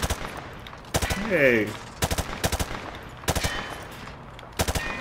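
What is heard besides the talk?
rapid gunfire in Modern Warfare 2 video game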